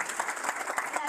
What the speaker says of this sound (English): Let's give a round of applause for Miss Teresita and Paul.